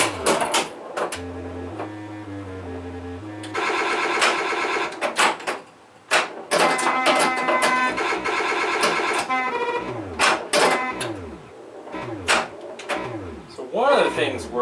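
A Gottlieb System 80 pinball machine in play, with sharp clacks from pop bumpers and flippers, electronic tones and chimes, and mechanical rattles arriving in irregular bursts, loud and close.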